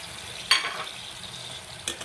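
Fish-head curry with Malabar spinach, turmeric, chili, coriander powder and salt stirred in a pan: two brief scrapes of the spoon over a low, constant sizzle, close by, with no one speaking.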